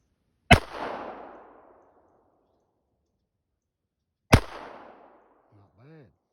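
A Walther PP .32 pistol fires two sharp, loud shots about four seconds apart outdoors, each with a fading crack and echo, followed by a brief voice.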